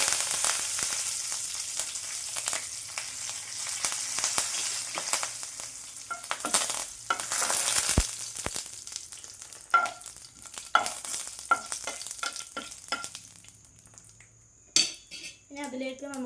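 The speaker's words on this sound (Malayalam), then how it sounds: "കടുക് പൊട്ടി വന്നിട്ടുണ്ട്. ഇത് നമ്മൾ നേരത്തെ എടുത്ത് വെച്ച കറിവേപ്പില കേട്ടോ. അപ്പോൾ ഈ കറിവേപ്പില നമുക്ക് പൊട്ടിച്ചിട്ട് കൊടുക്കാം." Curry leaves crackling in hot oil along with popped mustard seeds in a pan, sharp sizzling and popping bursts with some clinks of a utensil, fairly close, and a few brief words spoken.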